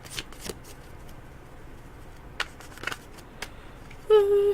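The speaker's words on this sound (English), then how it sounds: "I got these cards shuffled," Tarot cards are shuffled in quick, soft riffling bursts with pauses between them, close and fairly quiet, followed by a brief louder tonal sound at the end.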